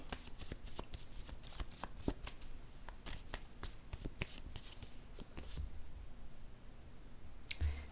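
A deck of playing cards is shuffled in a long run of crisp, rapid riffling flicks, close and fairly quiet, with a short louder snap near the end and no talking.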